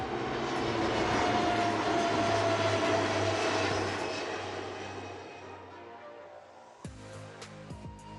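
A Indian Navy Dornier aircraft passes overhead in a flypast, its engine roar loud and steady before fading into the distance, with a few faint clicks near the end.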